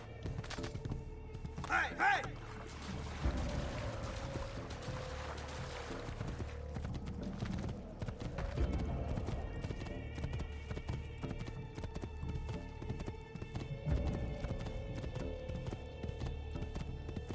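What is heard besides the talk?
horse galloping and neighing in video game Assassin's Creed II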